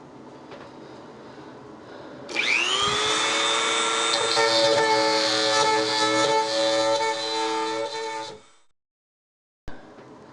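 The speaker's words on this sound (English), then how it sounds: "now I'm going to use the bit a little differently. Try and drag it around to connect all those holes together." A drill bit is dragged through a fiberglass shower wall to join a ring of holes during shower faucet repair, a loud whining grind that starts abruptly, holds for about six seconds, then stops, followed by a short knock.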